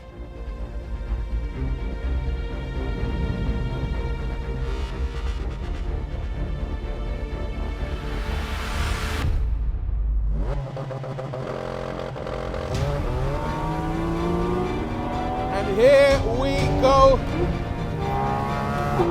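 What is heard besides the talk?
naturally aspirated flat-six sports car engine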